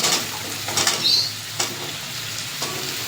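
Onions frying with ginger-garlic and red chilli paste for a soybean egg dish, crackling in oil up close, with a few scraping stirs and brief clinks breaking the steady sizzle.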